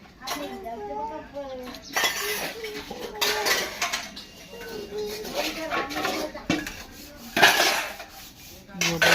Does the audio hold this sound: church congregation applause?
no